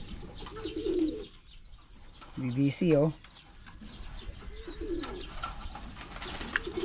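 Racing pigeons arriving at a loft during a derby race coo in low, throaty bursts, with a louder cluster of cooing midway, while someone talks over the sound and faint outdoor chatter carries in the background.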